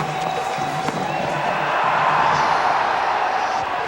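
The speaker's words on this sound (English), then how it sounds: "Appeals from the crowd, not from the players." A cricket crowd at a Test match in Bridgetown roars and shouts in a sustained, loud wall of appeal lasting the whole moment, with no break in the noise.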